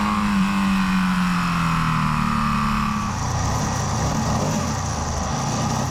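A 2018 BMW F850GS motorcycle engine revs up with a falling tone, then settles into a loud, rough steady drone close by, no voices present.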